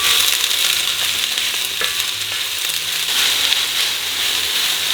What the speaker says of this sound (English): Just going to fry these until they're nice and soft.